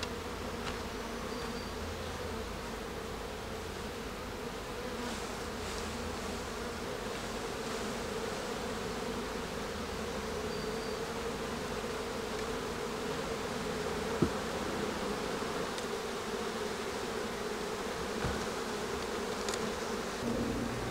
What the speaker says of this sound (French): Je vais venir brasser les cadres pour récupérer les abeilles avec la reine.